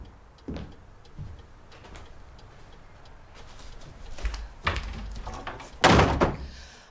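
A door swings and thuds shut indoors, with a firm slam near the end after softer knocks and handling sounds, fairly close and without speech.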